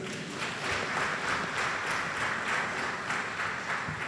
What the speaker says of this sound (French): Vous devez vous applaudir vous-même